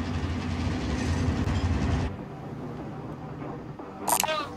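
A train rumbles past in a battle royale video game, a steady loud low roar for about two seconds that then drops away, leaving quieter game ambience with a brief bright chirp near the end.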